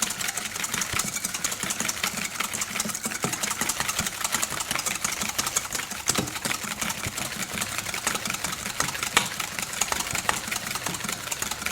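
Egg yolk, whole egg and 30 grams of sugar are whisked hard in a bowl, giving a fast, steady ticking and scraping that runs continuously at close range with no talk.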